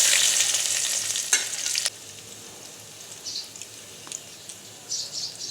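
Chopped onion dropped into hot oil in a kadai with cinnamon and bay leaf, a loud burst of sizzling that settles into a softer crackle with occasional spits and stirring clicks.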